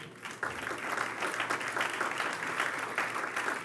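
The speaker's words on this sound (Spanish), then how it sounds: "Denle un aplauso al Señor." A church congregation claps together in a steady, dense burst of applause that fills the room for several seconds, with no voices rising above it.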